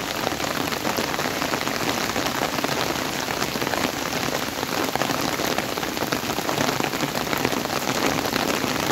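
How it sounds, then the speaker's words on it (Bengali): Heavy rain pours down on a green, tree-filled spot, a dense, unbroken hiss of drops striking surfaces that stays loud and even throughout, with no talking. "প্রচণ্ড বৃষ্টি হচ্ছে।"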